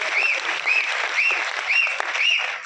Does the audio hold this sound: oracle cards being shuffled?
no